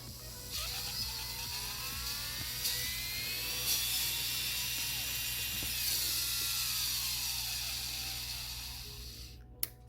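A high-pitched rechargeable Melodysusie Sparkle Pro electric nail file drill, well worn, whines steadily for several seconds, its pitch sliding slightly up and down, close and fairly loud, cutting off abruptly at the end.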